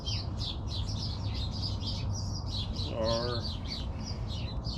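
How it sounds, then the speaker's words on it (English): Noisy birds chirp and tweet steadily in the background outdoors, many quick repeated calls over a low hum, with a brief voice near the middle. "I've got some noisy birds in the background"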